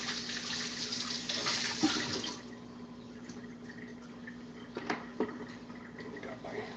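Tap water runs into a kitchen sink during hand washing, a steady rushing splash that is louder for the first two seconds and then quieter and thinner, with a few clicks and knocks from handling near the sink.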